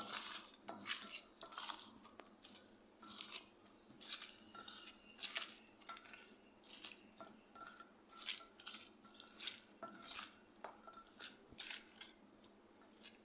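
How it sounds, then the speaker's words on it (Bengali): Tengra fish is worked by hand with chili and coriander powder in a bowl, producing soft, irregular clinks, squelches and taps against the vessel, fairly quiet and close. "এবার এগুলো আমি ভালো মতো মেখে নিব মাছের সাথে"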